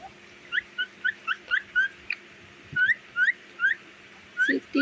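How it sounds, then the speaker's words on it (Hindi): A pet parrot whistles a run of short rising chirps, about a dozen sharp notes in quick uneven bursts, close and clear over a quiet room hum. "देखो मिट्टू कैसे सीटी बजा रहा है अभी खाना खाना भी भूल गया है मिट्टू"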